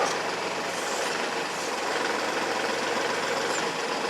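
A Kubota tractor engine idles steadily nearby, a continuous even rumble with broadband noise and no speech over it.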